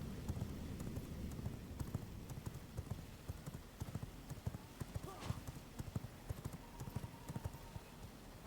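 Rapid hoofbeats of a galloping horse in the game V Rising, a steady clip-clop rhythm close and fairly loud, with a speaker talking over it.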